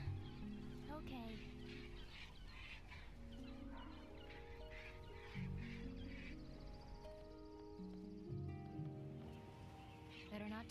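Giant birds in the Broken Age adventure game give quacking, clucking calls that rise and fall in bursts under a layer of music and talk, fairly faint overall.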